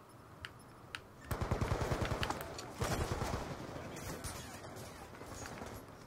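Rapid automatic gunfire in Call of Duty Black Ops 2 multiplayer Domination on the Express map, two lone shots followed by fast sustained bursts, loud and close, with faint battle noise behind.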